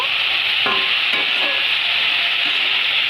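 Drumstick pieces and potato sautéing in a hot pan make a steady, close sizzling hiss, broken by a few soft scraping knocks as they are stirred; no voices.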